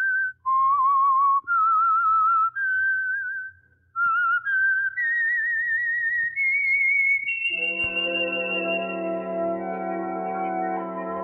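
A clear, melodic whistled tune rising in steps, then a sustained orchestral chord swells in beneath the final held note.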